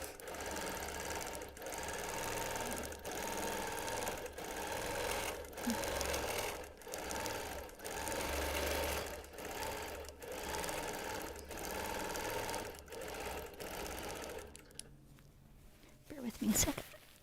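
Sewing machine quilting a wonky quilt, a rapid rhythmic stitching clatter in repeated runs with brief pauses, stopping near the end amid handling noise, with someone talking quietly under it.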